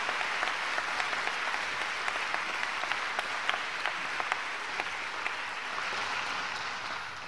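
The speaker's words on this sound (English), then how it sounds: "Please give your families a nod of thanks, a great big round of applause." A commencement crowd at the College of Saint Benedict claps steadily in a big, even round of applause, dense and moderately distant, with scattered sharper claps standing out.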